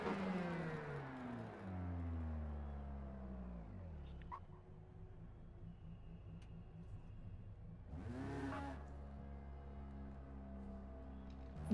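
A race car engine in the Forza Motorsport game pulls out of the pits, its revving tone sweeping up through gear changes and then surging again after a brief lull, loud and close.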